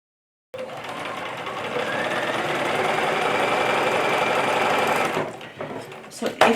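A sewing machine stitches a fabric basket in one steady, rapid mechanical whir lasting several seconds, then stops and leaves a few soft handling knocks.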